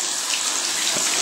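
Bathroom tap running steadily into a sink, a continuous close hiss of flowing water with no talk over it.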